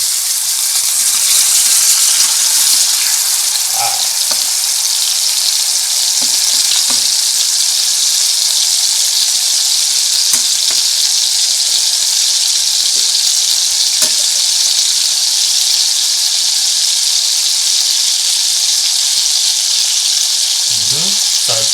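Bacon burger frying in bacon fat, a loud continuous sizzle with scattered small pops and crackles, close and steady throughout.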